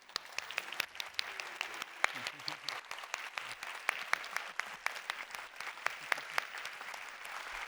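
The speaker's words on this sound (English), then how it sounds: "Can we get an applause there?" Applause at an awards ceremony, sparse and uneven clapping from a modest crowd, with individual sharp hand claps standing out clearly over a light background murmur for several seconds.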